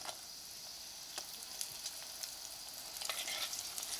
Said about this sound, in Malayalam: അപ്പോൾ ഈ നമുക്ക് കൊണ്ടാട്ടം വറുത്തെടുക്കാം.